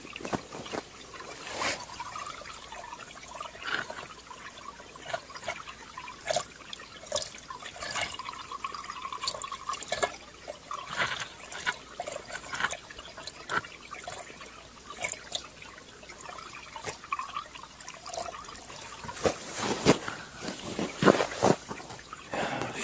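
Water flows through a culvert at an off-grid cabin, a continuous trickling, gurgling rush with scattered drips and splashes, moderately close and fairly quiet.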